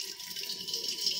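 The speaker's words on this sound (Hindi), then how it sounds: "अब मैं भरूंगी पानी।" Water runs steadily from a tap into a water pot, a continuous hiss and splash heard alone at close range without talking.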